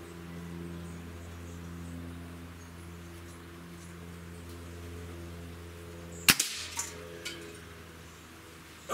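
Single sharp shot from a Hatsan Torpedo 150 Sniper air rifle, a loud crack followed by brief rattling and a couple of smaller clicks, over a steady low background hum.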